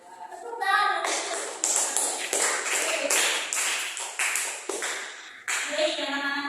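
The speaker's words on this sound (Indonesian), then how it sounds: "Tepuk tangan." A classroom of students applauds together at the end of a group presentation, many hands clapping in a dense, lively burst that holds steady for several seconds with small dips before rising again.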